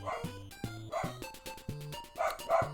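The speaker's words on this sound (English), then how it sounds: "Sorry guys, the dogs are at it again." Dogs bark in a room during an EarthBound Beginnings NES stream, a run of sharp, repeated yips and bow-wows coming in quick bursts, fairly close, over game music.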